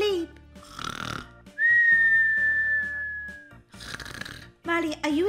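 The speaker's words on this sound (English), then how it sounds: "Molly farted and snored all night long." Cartoonish snoring and a long whistling exhale from a character in the Roblox game Brookhaven, repeating in loud cycles of rasping snore then steady whistle, with bright sound-effect tones under a busy soundtrack.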